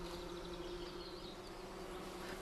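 Honeybees in a weakened colony buzzing with a faint, steady drone and a sustained low hum, quiet and continuous with no voices.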